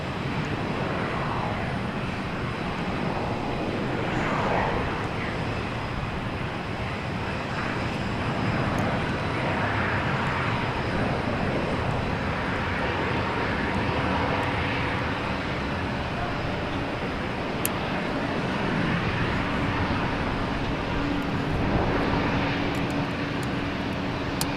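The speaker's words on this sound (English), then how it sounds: "There it goes. Clear for takeoff." A jet airliner takes off at Boston Logan Airport with a sustained roar of engines that rises and falls gradually over a long stretch, heard from a distance with occasional voices talking over it.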